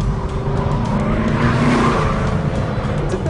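Tires of a 580-horsepower 2013 Chevrolet Camaro ZL1 squealing continuously on a skid pad as the car corners at high grip, a loud, steady skid blended with engine noise and no talk.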